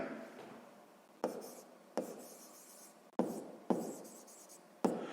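A pen scratches across paper while a sixth-grade math exercise is worked out, with close, dry strokes that begin with sharp onsets and fade, repeating about six times over several seconds. No one speaks.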